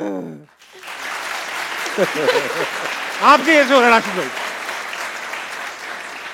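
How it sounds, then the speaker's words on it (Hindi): A studio game show audience claps in a steady, moderate burst of applause while someone talks over it, his voice rising above the clapping throughout. "जरा तालियां बजाएं"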